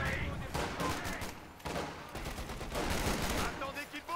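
Gunfire in Company of Heroes 2, set in the World War II Battle of the Bulge in the Ardennes: repeated bursts of rifle and machine-gun fire crackle at a moderate distance in an uneven, rolling volley.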